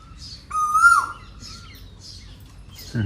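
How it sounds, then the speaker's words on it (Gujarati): A single clear, rising whistled call from an Asian koel sounds nearby in a Botad village, surrounded by softer intermittent chirps over a quiet background. "કોયલ ટવકા કરે"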